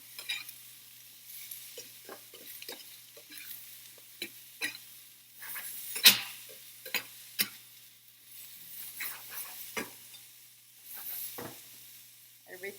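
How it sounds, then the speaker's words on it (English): Onion hits a hot pan for vegetable fried rice, giving sparse crackles and pops with occasional sharp spatters and stirring scrapes over a quiet background, fairly close. "Oh, that onion hits the heat."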